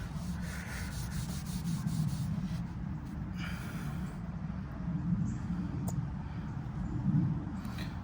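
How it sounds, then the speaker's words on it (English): Howard's wax being rubbed by hand into a cedar log bread bowl, a steady close-up scrubbing and rubbing hiss that continues for the whole stretch with small swells in intensity. "I'm just gonna rub in some of this wax I got on it"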